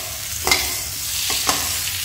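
Spiced potatoes for a tangy aloo sabji are stirred in a pan, a steady sizzle running throughout with two soft scraping strokes rising above it.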